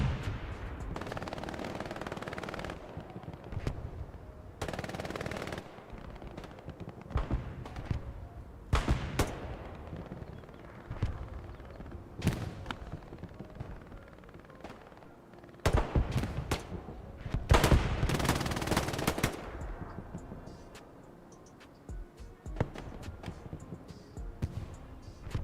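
Machine gun fire in Hell Let Loose on the Hürtgen Forest map: repeated bursts and scattered shots over a rumbling battlefield, some loud and close and others farther off, for about twenty-five seconds.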